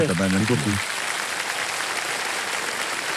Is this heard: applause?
yes